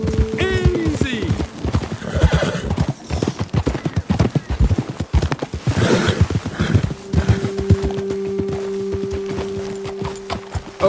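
Horses gallop and whinny in Red Dead Redemption 2, with a rapid, dense clatter of hooves running throughout, loud neighs near the start and middle, and people's voices calling over the riding.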